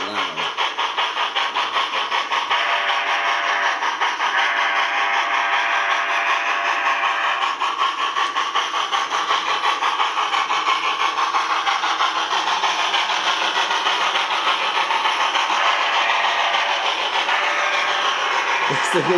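A Rapido HO Royal Hudson model steam locomotive running loudly, a dense rapid steady chuffing drone that holds throughout at close range, with some talking under it.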